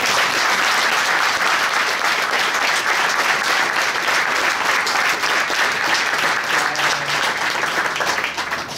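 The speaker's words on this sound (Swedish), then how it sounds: "Ge honom en applåd." Audience applause for a speaker at a foyer forum with a former goalkeeper, a dense, steady wash of many hands clapping that holds for about eight seconds before starting to thin at the end.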